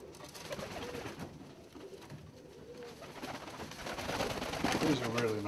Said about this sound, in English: These are really nice birds.